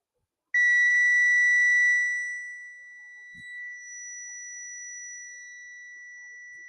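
A continuity tester lets out one sustained electronic beep, a clear steady pure tone that starts abruptly, then drops to a lower, quieter level and keeps sounding while tip and ring pins on a plug are checked.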